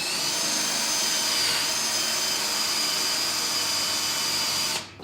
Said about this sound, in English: I've got this other Forstner bit, which is the same diameter as this dowel, put its point right in that center point